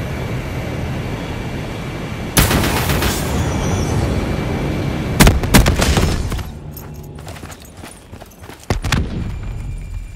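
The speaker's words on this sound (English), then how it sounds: "Requesting Hellstorm missile." A Hellstorm missile strike in the Call of Duty Black Ops 3 multiplayer map Hunted, with bursts of loud gunfire and booming impacts, then short sharp blasts and crackling debris.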